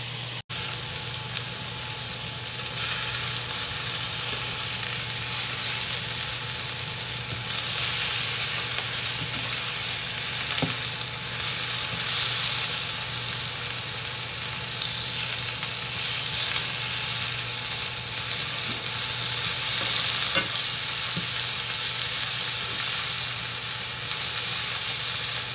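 Sausages sizzle and fry steadily in a hot pan during a home breakfast-for-dinner cook, a continuous moderate hiss with occasional faint clicks and no talking.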